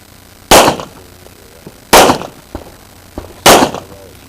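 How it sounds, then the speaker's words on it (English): Three sharp, loud gunshots fired one at a time at targets during an IDPA shooting qualifier, roughly a second and a half apart, each followed by a short echo off the range. "Now this is going to be 1 shot at each target"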